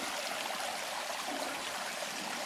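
Small, low-flow mountain stream and tiny waterfall near Panagia lake in Crimea, a steady close rushing and trickling wash of water with no voices.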